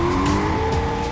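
A race car skidding, a loud sustained tire squeal over the engine's roar that holds a steady pitch across the short burst, close and with no speech.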